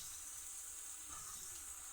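A small amount of spiced water pours steadily into a pan of vegetables, a faint, even liquid hiss with no talking.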